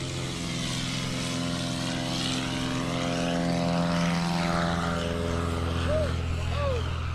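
A Cessna 182 propeller aircraft lands during a STOL touring-class competition at an airfield, its engine drone steady and fairly loud throughout, with a commentator talking over it.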